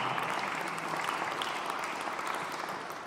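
A room full of people at a community arts salon gives a steady, even round of applause that holds at the same level for about three seconds and eases off slightly at the end.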